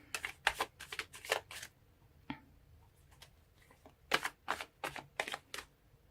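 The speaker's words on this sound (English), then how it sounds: "let's pull more cards and see what we can get" Tarot cards riffled and shuffled in a reading, quick close crisp bursts in two clusters with a few soft card flips and taps between them, fairly faint overall.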